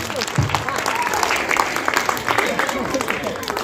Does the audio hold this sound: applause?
yes